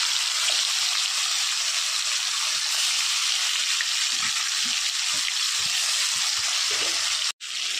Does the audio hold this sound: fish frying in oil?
yes